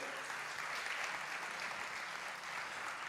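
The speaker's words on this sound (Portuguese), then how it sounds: "Pode dar um forte aplauso ao Senhor" A church congregation applauding during a sermon, a soft, even wash of many hands clapping from some distance, steady throughout with no voices over it.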